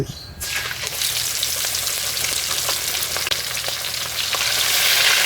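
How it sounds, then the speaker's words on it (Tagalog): Pork belly (liempo) dredged in flour crackles and sizzles steadily in hot oil after a brief quiet start, a dense, continuous fry with fine popping throughout, close and fairly loud with no voices. "Pipirituhin mo na yung liempo diyan."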